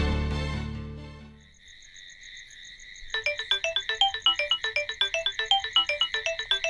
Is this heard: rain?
no